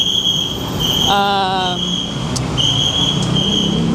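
A Bangkok MRT train runs nearby with a steady mechanical hum, a rising electronic whine and a brief chime-like tone over the rumble.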